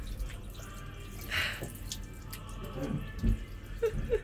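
Water drips and splashes from a tap as hands are rinsed one at a time, faint and intermittent against a low background hum, with a few louder drops near the end.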